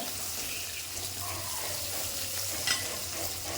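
Shallots and green chillies fry in a pan for an eggplant and small-onion curry, giving a steady, close sizzle throughout with a brief clink of stirring near the end.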